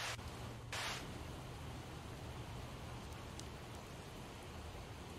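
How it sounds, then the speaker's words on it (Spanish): Steady rain in the video game Project Zomboid, a dense, even hiss of falling drops that holds for the whole stretch, with a brief louder splash near the start and no talk. "¡Qué locura la lluvia!"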